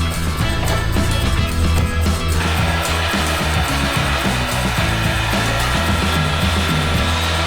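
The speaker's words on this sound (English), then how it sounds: "back to the heat gun, because it just tightened everything back up." A heat gun blows steadily and loudly on a leather knife sheath during hunting knife making, a constant airy roar with no talk over it.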